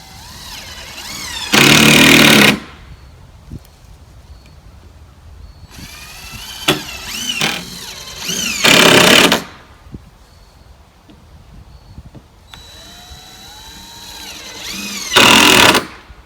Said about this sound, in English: I'm going to screw this off around 6 or 8 inches all the way around